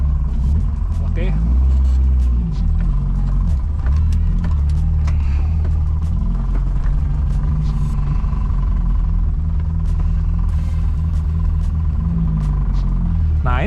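Suzuki Jimny Katana engine rumbling and revving steadily off-road on an adventure trail, loud and continuous throughout, with a voice talking over it at times.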